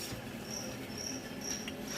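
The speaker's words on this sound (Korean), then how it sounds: "근데 지금은 한 20일 정도 된 이게 귀뚜라미고요" Farmed crickets, about twenty days old and kept in a warm, humid rearing room, chirp in faint intermittent high trills over a steady noisy hum.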